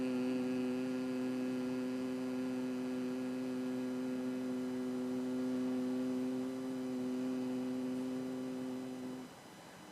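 People humming a steady 'mmm' with their ears closed, a single even tone held for about nine seconds before fading out.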